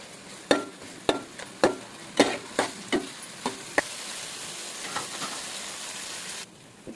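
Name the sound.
frying ginger garlic paste for Andhra pulao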